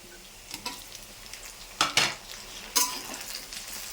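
Chopped tomato goes into frying onions and is stirred, giving a soft sizzle under a few scraping, clattering strokes of a utensil against the pan, two of them louder than the rest.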